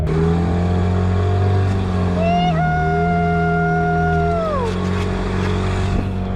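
A new outboard motor on a dinghy runs with a steady low drone, its pitch rising and then falling away as the throttle changes, loud and close with little talk.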